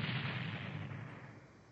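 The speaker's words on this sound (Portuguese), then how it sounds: "como é que vamos saber agora para onde devemos seguir se as explosões estão vindo de tudo quanto é lado?" A heavy explosion rumble from an animated series, a broad booming blast that decays over under two seconds, with no speech.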